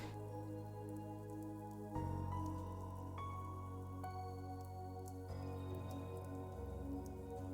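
Rain sound effect in the Fate/Stay Night visual novel game, a steady patter of rain running under layered sustained background music that shifts between chords.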